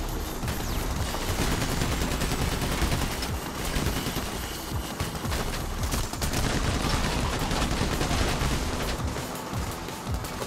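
Rapid bursts of gunfire crackle continuously, dense overlapping shots and booms like a heavy firefight in a game, with no talking.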